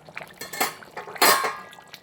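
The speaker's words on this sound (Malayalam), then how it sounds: "നമുക്ക് ഇളക്കാം." Pork curry being stirred in a metal cooking pot, giving a few scraping, clinking strokes of a utensil against the pot, with the loudest scrape about halfway through, heard up close and alone.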